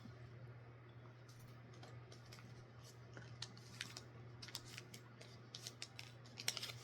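Scissors snip through denim while cutting out fabric squares, with faint, quick crisp clicks in irregular bursts over a steady low hum, growing busier toward the end.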